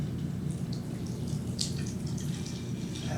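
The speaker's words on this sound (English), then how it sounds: "Pour out some of the water." Water is poured out of a lab ice bath, a steady splashing trickle with faint drips and clinks, close and moderately loud, without talk.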